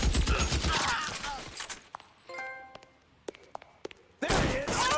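Bursts of BAR rifle gunfire in L.A. Noire, loud rapid volleys at the start and end with scattered single thuds and clanks between, close and dense.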